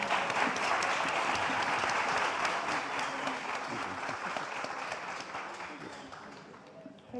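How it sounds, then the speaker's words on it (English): Audience applause for a panel at the ISC2025 conference, a sustained crowd of many hands clapping steadily in a hall, fading gradually over several seconds before a brief voice at the end. "Round of applause to the panel."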